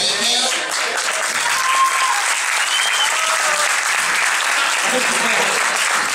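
A comedy show audience at Hotel O'Higgins breaks into loud, sustained applause after a joke, a dense, even roar of clapping throughout with voices blended underneath.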